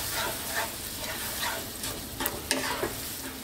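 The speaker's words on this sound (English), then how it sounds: "Keep stirring it all the time now on a low heat." Spinach cream parmesan sauce is stirred constantly in a pan over low heat, with a steady soft sizzle and bubbling and a few sharper scrapes of the spoon near the end. No one speaks.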